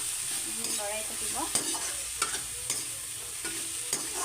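Brahmi greens frying in a wok over low heat, with a steady soft sizzle broken by sharp scrapes and taps of a stirring spatula against the pan, close and fairly quiet, no talk.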